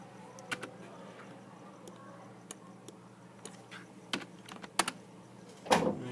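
Scattered keystrokes tap on a computer keyboard nearby, a few quiet isolated clicks with short pauses between them and a louder burst near the end.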